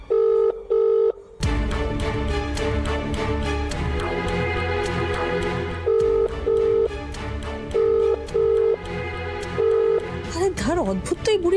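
Short repeated ringback tones of an outgoing phone call pulse in pairs at the start and again later, sitting over a loud dramatic music score from a Bengali TV serial.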